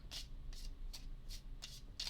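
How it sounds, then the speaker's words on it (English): A deck of Arkham Horror card game cards is shuffled in a quick, regular run of about six crisp riffling bursts, close and quiet, without talk. "I think we're sufficiently shuffled for this deck"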